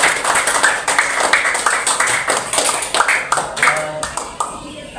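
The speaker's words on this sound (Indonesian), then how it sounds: "Terima kasih, kita beri tepuk tangan dulu ya" A group at an SDN Kalibanteng school discussion session claps together, producing a dense, steady patter of hand claps close by that fills the room for several seconds. Voices can be heard underneath.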